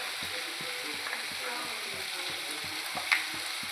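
Chana dal sizzling in a pan while being stirred, a continuous frying hiss with regular low scraping strokes of the spoon and one sharp clink near the end, fairly close and steady.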